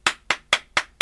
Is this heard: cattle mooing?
no